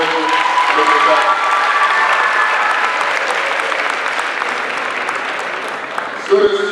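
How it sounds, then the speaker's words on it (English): A school assembly crowd applauds steadily, broad clapping from many students that gradually softens, with a voice briefly speaking near the end. "Give Tony a round of applause for her."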